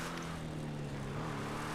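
A propeller airplane drones steadily overhead in GTA 5, its engine hum loud and continuous with no talk over it.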